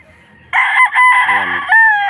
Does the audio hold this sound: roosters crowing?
yes